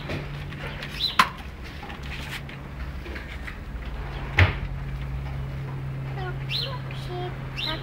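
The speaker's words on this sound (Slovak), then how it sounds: "Vtáčikové." Pigeons coo softly in the background under a steady low hum, with a couple of sharp knocks like a door or cupboard and faint bird calls toward the end.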